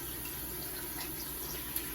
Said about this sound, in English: And now I'm gonna wash my face off with cold water.